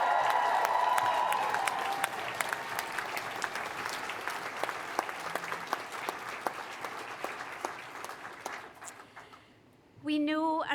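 A graduation audience at a University of Aberdeen summer ceremony breaks into loud, sustained applause with scattered cheers, the clapping thinning toward the end before a voice speaks over the hall.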